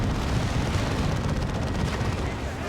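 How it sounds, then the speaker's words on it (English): Manticore missile strikes exploding in Warhammer 40,000: Dawn of War 2, a dense unbroken barrage of booms and blasts that fills the whole stretch loudly. "Bunch of Manticore strikes going in"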